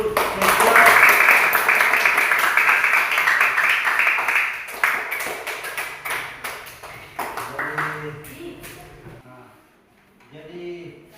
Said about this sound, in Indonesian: Coba tepuk tangan dulu untuk Sesya.